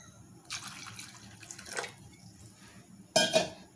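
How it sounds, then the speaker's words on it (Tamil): Water trickles and splashes into a pan of mushroom gravy (kalan kulambu), in soft intermittent pours with a sharper splash near the end. "இன்னும் தண்ணி ஊற்றிக்கலாம்."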